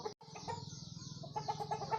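Sonali chickens on a poultry farm cluck and murmur close by in a dense, overlapping flock chorus, short rhythmic calls with no talk.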